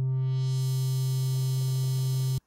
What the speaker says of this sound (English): pushes this frequency up to its top levels and then allows more and more higher harmonics in as time goes on.